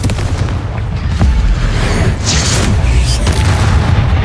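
Repeated Confringo spell blasts during Hogwarts Legacy combat: deep, loud explosive booms layered over a constant thick rumble of battle noise, with a stronger burst around the middle.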